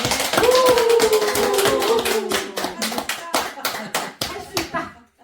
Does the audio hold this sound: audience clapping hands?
yes